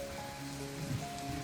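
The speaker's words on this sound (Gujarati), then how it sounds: "બહારનો વરસાદ પણ બતાવી દઈએ કેટલો બધો વધી ગયો છે વરસાદ." Heavy rain pouring down outside a home, a dense continuous hiss of drops striking surfaces, steady and enveloping throughout with no voices.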